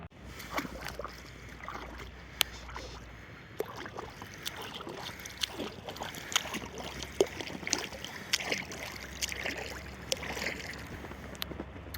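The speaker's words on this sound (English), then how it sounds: "got my lifeboat ready to head back to shore. Get some good rowing exercise." A small lifeboat dinghy is rowed away from an anchored Columbia 22 sailboat on a lake, with faint oar splashes and dribbling water at an irregular pace against quiet surroundings.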